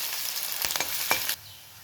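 Chopped green chillies fry in hot oil with a loud, close sizzle and a few sharp pops, then the sound drops away abruptly.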